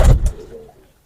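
Pigeons at a keeper's loft give a short burst of close, throaty cooing with two quick pulses, then fade into near silence within about a second.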